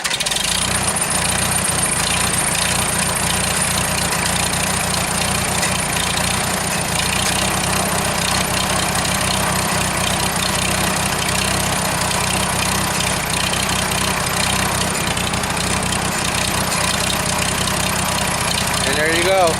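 A 1940 Farmall H tractor engine, started with the choke off, idles steadily and loudly up close for the whole stretch, a constant rumble with a voice speaking over it.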